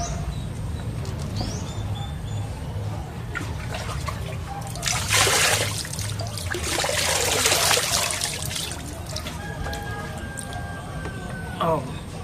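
Tap water runs steadily while dishes are washed, with a constant trickling hiss and a louder splashing stretch in the middle. A low hum sits underneath, and faint birds or chirps come through.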